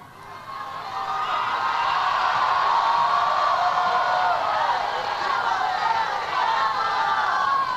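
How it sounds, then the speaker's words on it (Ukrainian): A large crowd in the Varginha favela in Rio claps and cheers for a speaker as his speech begins, a dense, steady roar of applause with scattered whoops that swells in and holds loud throughout. "Початок його промови навіть е, зустрічається з оплесками"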